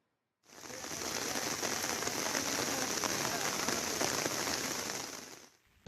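Heavy rain pours steadily in Puducherry, where flooded paddy fields lie near harvest, a dense, continuous hiss of drops striking surfaces that starts abruptly and holds loud and even for several seconds before cutting off.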